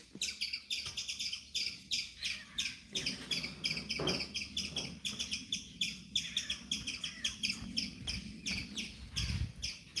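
Many small birds chirp and tweet in quick repeated bursts throughout, a busy, steady chorus close by with a low background rumble.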